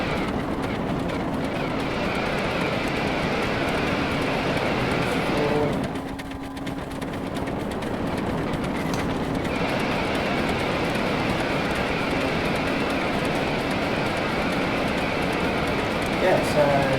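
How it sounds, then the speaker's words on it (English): A steady mechanical drone and whir from a player-built helicopter in the video game Scrap Mechanic runs continuously, dipping briefly midway, while someone talks over it. "Yeah, so a fully functional helicopter, it's easy enough to fly."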